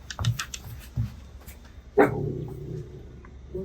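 A Welsh Corgi gives one loud, sharp bark nearby, preceded by a few softer yips and followed by a low trailing growl.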